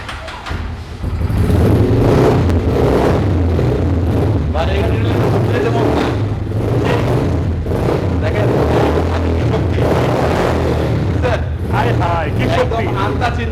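A motorcycle engine starts and then runs with a low, steady rumble, while people talk over it nearby.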